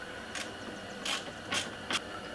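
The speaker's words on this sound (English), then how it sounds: "we'll grab our 7/16 socket and wrench. We'll be able to snug this guy up." A 7/16 socket wrench snugs up a bolt while fitting an ice scratcher. It gives about four quick, faint ratcheting clicks in an uneven rhythm, close by in a quiet room.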